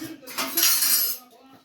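Dishes and metal utensils clink and rattle while being scrubbed and washed in a home kitchen under cold running water, a busy close burst of clatter lasting about a second with a faint voice underneath.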